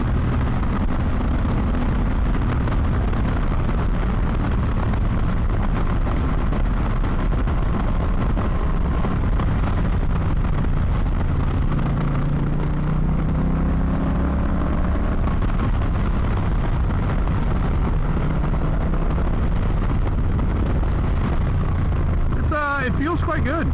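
A Honda Rebel 1100 DCT motorcycle pulls away with a steady engine drone that rises as it accelerates and shifts, loud and continuous, with brief wind buffeting near the end.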